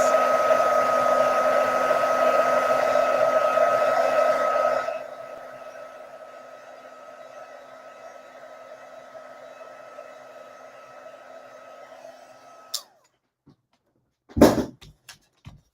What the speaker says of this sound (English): So let's just quickly heat emboss this.